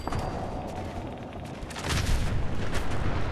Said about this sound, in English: legendary sentry bots 1 do exist, and 2 will explode a second time